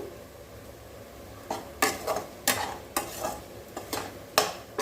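A spatula stirs kodampuli pirandai thokku in a pan, giving about eight quiet, evenly spaced scraping strokes over a low background hiss.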